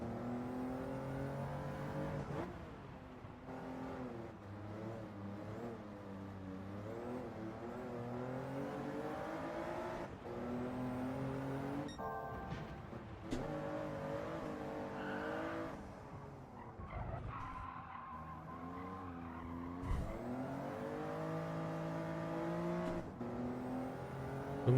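Race car engine in Gran Turismo 7 during a time trial, revving hard through the gears with rising and falling pitch, brief lifts and tire squeal at corners, loud and continuous with no talking.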